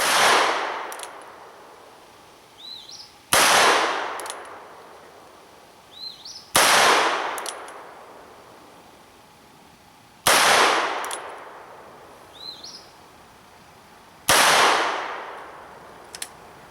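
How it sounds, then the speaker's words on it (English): A heavy Ruger Super Redhawk with a 9.5-inch barrel fires 45 Colt rounds: five loud, sharp gunshots spaced roughly three to four seconds apart, each decaying with a ringing echo outdoors. "the 45 Colt in this heavy gun is soft shooting"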